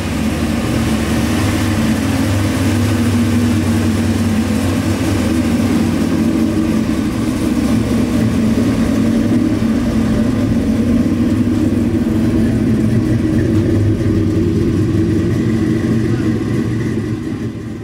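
A 700 hp 454 Chevelle muscle car engine rumbles loudly and steadily while driving, a deep continuous low-pitched roar that holds throughout, with voices now and then over it.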